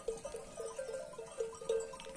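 Sheep grazing on green mountain pasture after rain give several short, tonal bleats spaced across the moment, faint and fairly distant, with no voices.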